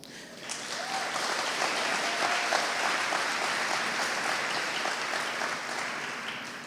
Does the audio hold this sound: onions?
no